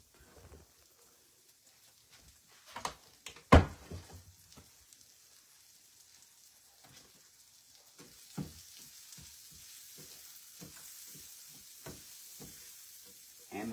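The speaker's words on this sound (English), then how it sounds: "I just put the onions in the skillet to let them get tender" Onions frying in a skillet for a breakfast of grits, bacon, toast and eggs, a soft steady sizzle with occasional clanks and stirring knocks, close by, swelling louder in the second half.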